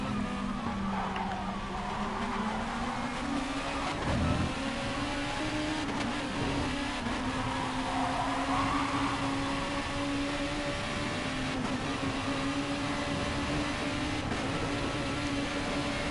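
Race cars lapping a Super GT round in Gran Turismo Sport, engines droning steadily with a sustained tone that rises and falls as they chase each other, loud and continuous with no talk.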